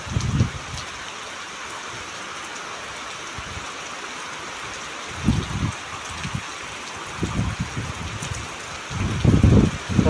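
Heavy rain pours steadily over a village during a yagya festival, a dense, even hiss lasting throughout with occasional low rumbling gusts near the end.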